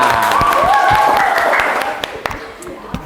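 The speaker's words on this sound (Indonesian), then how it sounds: "tepuk 2, tepuk 3, tepuk 4, tepuk 5. Oke, tepuk tangan." Classroom of students clapping hands on cue, a rapid, loud patter of claps that thins out into a few scattered claps, with a teacher's voice over it.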